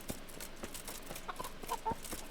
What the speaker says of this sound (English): Are they just letting their chickens roam free in the town?